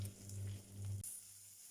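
Garlic stir-fried in a clay chatti gives a short, close sizzle with a low steady hum beneath, which drops away sharply partway through, leaving a faint hiss.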